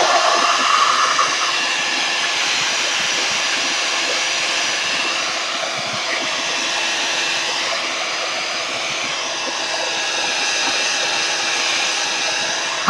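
Heat tool blowing to dry Distress Oxide-inked paper, a steady, loud whirring hiss of fan and air held continuously from start to finish, with no talking.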